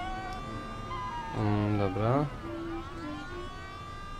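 A police siren wails during a car chase in the video game Mafia: The City of Lost Heaven, rising and falling in loud sweeping tones mid-clip over engine noise, with someone talking briefly.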